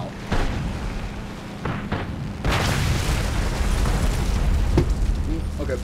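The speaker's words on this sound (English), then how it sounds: "I'm gonna hit my bombs out." Bombs released from a plane in War Thunder burst with heavy booms, one sharp blast early and a bigger rolling explosion midway, over steady engine drone and some talk.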